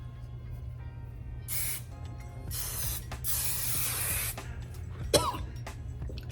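Hairspray hisses from an aerosol can in three short bursts, fairly close, followed by a cough, with low steady hum underneath.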